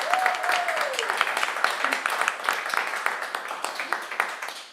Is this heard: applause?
yes